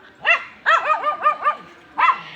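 A dog barking nearby in a quick run of high, yappy barks, pausing briefly before two more barks.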